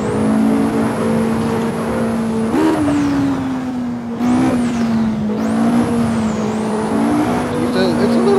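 Vauxhall 220 turbo SquonkBuilt edition car engine, a loud steady drone with rising and falling revs and a high turbo whine sweeping up and down.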